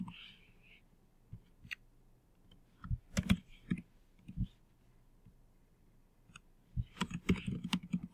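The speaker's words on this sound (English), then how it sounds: "I'm typing too fast, so I'll make a mistake" Soft keyboard typing in scattered bursts of clicks, quiet and close, with a longer flurry of rapid keystrokes near the end.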